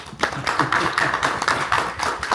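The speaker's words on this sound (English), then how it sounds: "can we take a moment to give yourselves a round of applause? For real, clap." An audience at a Rotary club weekly meeting claps in a round of applause, with uneven overlapping claps of moderate loudness.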